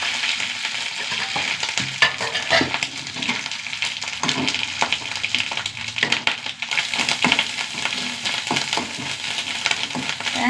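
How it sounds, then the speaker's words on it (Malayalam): Grated coconut, dried red chilies and curry leaves fry in a pan with a loud, busy sizzle, broken by scraping stir strokes and crackles. No one speaks. "തേങ്ങ നന്നായി മൂത്ത് വരണം."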